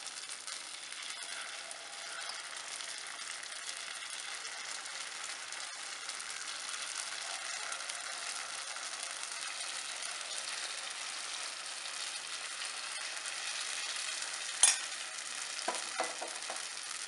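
Spicy kara paniyaram batter fries in hot oil in a Chettinad-style pan, giving a soft, steady, fairly faint sizzle throughout, broken near the end by a few sharp clicks and clinks.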